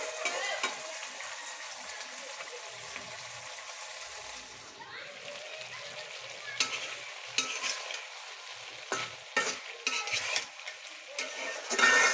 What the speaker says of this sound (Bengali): ছোট পুঁটি মাছ এগুলো ভেজে খেতে ভালো লাগে, তো আমি আজকে ভাজবো।